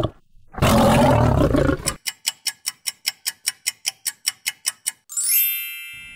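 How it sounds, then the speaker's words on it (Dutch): A lion gives one loud, close roar lasting over a second, followed by a steady series of sharp rhythmic ticks and a bright ringing chime. "De leeuw."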